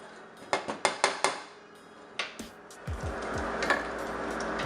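Metal spatula scraping and clanking against the sides of a pan while making mac and cheese sauce, several sharp close knocks followed by a steadier sizzling scrape.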